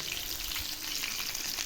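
Pomfret fish frying in oil on low heat for a Bengali-style masala fry, giving a steady, even crackling sizzle close by with no talking.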